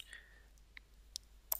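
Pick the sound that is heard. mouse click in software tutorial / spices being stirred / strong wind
mouse click in software tutorial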